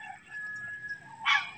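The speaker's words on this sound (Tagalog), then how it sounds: "Oh, oh mga manok, diyan lang kayo." A rooster crows once in a rural backyard, a drawn-out call that swells loud near the end after a thin sustained tone, with faint hens and country ambience behind it and no talking.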